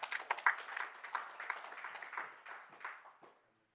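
A church congregation bursts into a round of clapping in praise to the Lord. It is a dense but fairly faint patter of many hands that tapers away over a few seconds.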